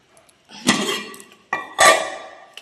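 Dishes and cutlery clink and clatter at a home lunch table while rice is served, two close bursts of bright ringing knocks with short decays, then a faint final tap, no talking.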